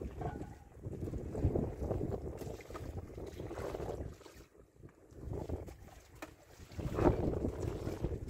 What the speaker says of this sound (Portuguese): Não tem motor, mas nós vamos com a vela.